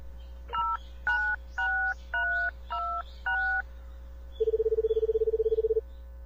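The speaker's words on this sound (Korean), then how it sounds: "전화해 그래 전화해 일단 전화해" A phone number dialed in the horror RPG Maker game Paranoiac: six crisp dual-tone keypad beeps in an even rhythm, followed by a steady buzzing ring tone, clean and close over a low background hum.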